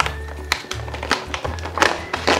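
Someone handles and opens a small cardboard door on an Action gift box advent calendar, making a few light taps and crinkles over a low, steady background hum.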